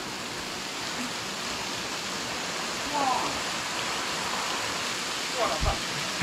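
Steady broadband roar of a waterfall in Kandersteg, Switzerland, heard close and continuous, with a few faint voices breaking through now and then.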